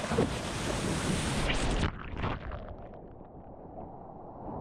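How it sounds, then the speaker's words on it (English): Large ocean waves roar loudly onto a Thailand beach, a heavy broadband crash that suddenly drops to a softer, receding wash partway through, with no voices. "I need to be careful with the waves, especially when they are huge, like this one that is approaching"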